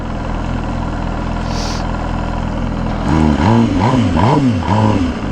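An MV Agusta Rush motorcycle engine runs with a steady low rumble, then revs up and down in several rising and falling sweeps, loud and close.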